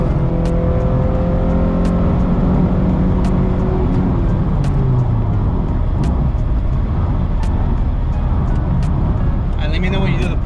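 A 1994 Honda Accord EX engine runs and revs up in a garage build, loud and close, its tone rising and falling through several pulls with sharp clicks and background voices over the steady engine noise.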